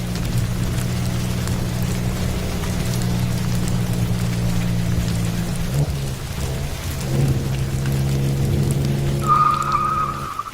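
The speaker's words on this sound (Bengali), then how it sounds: "বৃষ্টিটা তো এখনো কমেনি" Night rain on a rural road in a Bengali horror cartoon pours steadily over a deep, sustained rumble of thunder, with a higher held tone rising near the end and no voices.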